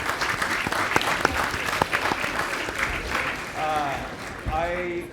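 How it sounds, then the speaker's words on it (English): A lecture theatre audience at a university computing lecture applauds steadily, with a few sharper claps standing out and a voice briefly speaking over the clapping near the end. "Can we have an enormous round of applause for all of these people?"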